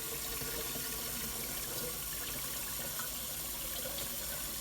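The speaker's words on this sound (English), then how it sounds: "we're gonna fill the jar the rest of the way with cold water" Cold water from a tap pours steadily into a jar to top up water kefir, an even, continuous gushing stream that stays level and close throughout.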